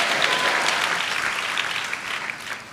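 A church congregation at a Hosanna Ministries gathering in Yanamalakuduru, Vijayawada, applauding loudly, a dense, sustained wash of many hands clapping together that fades slightly toward the end.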